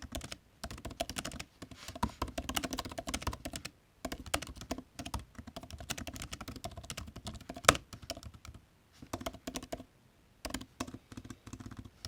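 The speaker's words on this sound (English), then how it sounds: "Like all MacBooks, it's got the classic Tappy Tapness on the keyboard." Fingers type quickly on a MacBook Air M1 (2020) keyboard, producing close, crisp bursts of tapping keystrokes separated by short pauses.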